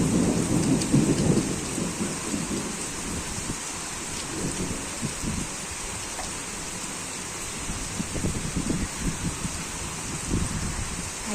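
Heavy rain pours steadily in a thunderstorm, a constant dense hiss on surfaces with low rumbling thunder rolling underneath and no voices.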